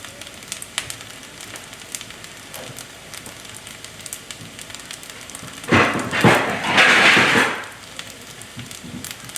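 An egg fries in a pan with a soft crackling sizzle that swells into a louder burst of spitting and hissing for a couple of seconds before settling back to a quiet crackle.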